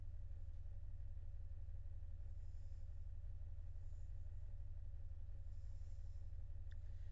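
A Bugatti engine in the driving game BeamNG Drive holds a steady low rumble, close and continuous, like an idling car with no marked revving.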